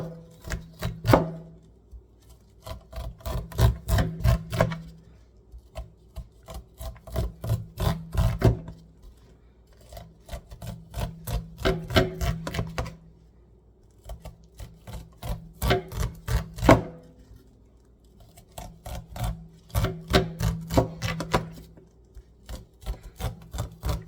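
A sharp knife slices kernels down the side of a corn cob, giving repeated rasping, chopping strokes in quick bursts with short pauses between, close and fairly loud, no talking.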